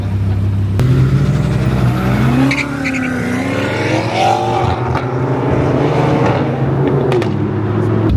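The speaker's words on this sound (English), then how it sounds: "now we're on a busy street in downtown Denver to get some like car passing by shots" Cars pass close by on a busy downtown Denver street, engines rising and falling loudly as one vehicle after another rushes past.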